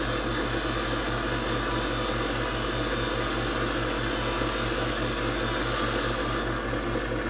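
A metal lathe runs with a steady motor hum and a fine, continuous cutting hiss as it deepens a notch in a workpiece, holding an even drone throughout with no talking.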